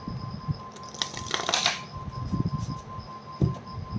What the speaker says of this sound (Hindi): this is my one and last shuffle angels